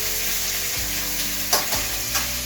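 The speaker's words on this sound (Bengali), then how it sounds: "ঝিরি করে কাটা পেঁয়াজ কুচিগুলো দিয়ে দিলাম। এবার একটু এটা ভাজবো" Thinly sliced onions frying in hot oil, a dense, steady sizzle that stays constant throughout, with a few soft stirring scrapes near the end.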